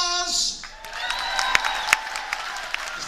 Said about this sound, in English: Give a round of applause for Bars.